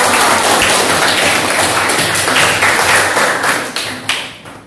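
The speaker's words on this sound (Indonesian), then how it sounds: "Tepuk tangan dulu dong." Applause from a classroom of students, a dense burst of clapping that stays loud throughout and then thins out and fades near the end.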